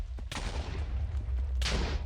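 In a fantasy elemental video game, an explosion skill is cast twice, each a sharp booming blast over a low rumbling bed, the second burst louder and more drawn out.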